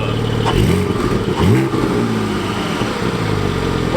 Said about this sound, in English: If I now press the exhaust button on the center console, you can see they've opened